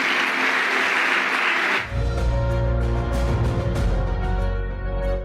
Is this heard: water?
no